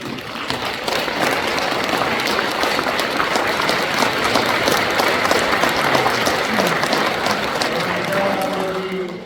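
An audience at a commemorative ceremony for President Syngman Rhee's birth anniversary claps steadily and loudly, a dense, sustained applause that continues evenly throughout.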